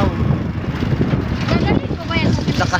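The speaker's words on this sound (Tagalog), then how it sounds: "Lakas ng hangin dito" Strong amihan monsoon wind blows across a beach in Looc, Occidental Mindoro, buffeting the microphone with a loud, continuous roar that surges and eases throughout.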